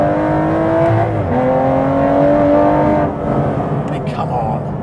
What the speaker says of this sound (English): How can you not like that? Normally aspirated V12.